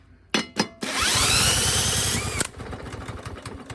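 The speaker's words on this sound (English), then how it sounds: "So if I try and start it right now, it's not going to want to start." A Craftsman QPT lawn mower engine with a brake cable problem is cranked but fails to start: two quick clicks, then about a second and a half of loud whirring crank that cuts off without the engine catching.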